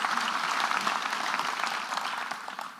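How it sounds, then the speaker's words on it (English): Audience clapping at a school prize giving, a steady round of applause from a crowd that holds for about three seconds and then begins to thin slightly, moderately loud with no voices over it. "we'll clap for her anyway"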